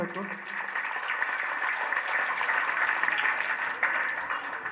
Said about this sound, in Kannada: ಎಲ್ಲರೂ ಜೋರಾಗಿ ಚಪ್ಪಾಳೆ ತಟ್ಟಬೇಕು.